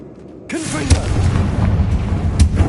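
A Confringo blasting curse in Hogwarts Legacy goes off with a sudden loud burst, then a rumbling low explosion and crackling debris that linger for a couple of seconds, with some game sounds layered over it.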